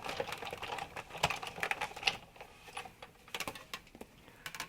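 A Sizzix die-cutting and embossing machine is cranked by hand through a folder, producing a rapid run of quiet clicking and ratcheting ticks at close range.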